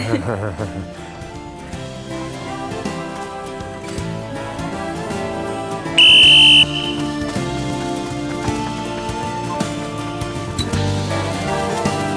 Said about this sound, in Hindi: अभी थोड़ी देर में सीटी बजाऊंगा